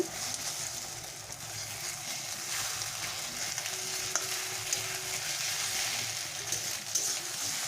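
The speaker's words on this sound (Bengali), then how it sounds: "ডিমটাকে আমি এইভাবে ভেজে রেখে ভাজবো বেশি কড়া করে ভাজবো না হালকা করে এইভাবে ভাজবো" An egg frying lightly in a pan for a taro stolon dish, with a steady close sizzle and crackle that runs continuously without pause and no talking over it.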